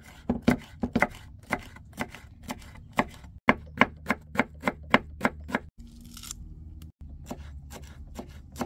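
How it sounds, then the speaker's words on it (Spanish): Knife chopping vegetables for salsa on a board, steady rhythmic strikes close by, about two a second, with a few brief pauses and a quieter stretch between runs. "Primeramente vamos a partir la verdura para hacer una salsita."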